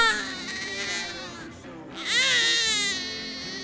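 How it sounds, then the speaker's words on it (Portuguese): An infant cries in a way said to signal gas: two loud, close, wailing bursts with a brief breathy pause between them, the second rising sharply before it tapers. "Já o som i quer dizer que o bebê está com gases."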